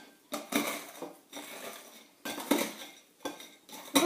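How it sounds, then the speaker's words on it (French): Biscuits are crushed with a fork in a bowl, heard as irregular close bursts of scraping and crunching against the dish, separated by short quiet gaps. "vous allez prendre les biscuits que vous allez écraser à la fourchette"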